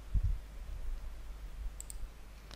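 A computer mouse clicks quietly a couple of times in quick succession over a low, steady hum, with no talk.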